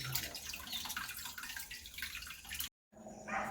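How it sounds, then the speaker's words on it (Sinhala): Water pours into a newly set up piranha aquarium tank, splashing and gushing steadily for a few seconds. It breaks off briefly, then resumes. "ඊට පස්සේ අපි මේකට වතුර එකතු කරගමු."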